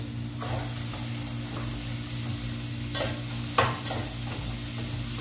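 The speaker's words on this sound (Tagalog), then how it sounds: "Paglag-lag yung sibuyas guys." Onions sautéing in a pan give a steady background sizzle, broken by a few brief scraping stirs and a sharper knock near the end, with no talk.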